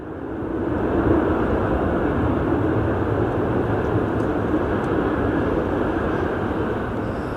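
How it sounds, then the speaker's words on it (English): A Ryanair airliner taxis at Edinburgh Airport, its engines giving a steady, loud, broad roar that holds evenly throughout with no voices. "there's our Ryanair"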